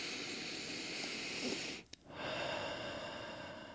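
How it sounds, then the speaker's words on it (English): A person draws a deep, slow breath, a soft airy hiss swelling and then breaking off into a brief pause before the breathing resumes, close and alone with no talk. "I'm telling you right now, actually go to your breath."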